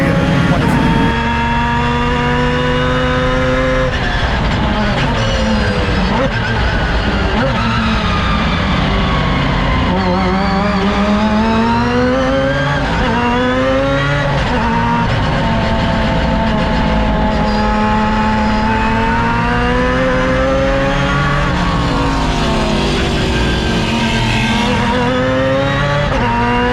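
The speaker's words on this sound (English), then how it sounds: "Jared, you have mastered 185 raging Mazda horsepowers in your MX-5 Cup car." A Mazda MX-5 Cup race car with 185 horsepower lapping a racetrack, its loud engine note rising and falling through the gears and corners for the whole stretch, with brief tire noise.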